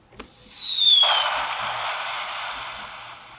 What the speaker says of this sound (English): You might as well give that bomb sound there too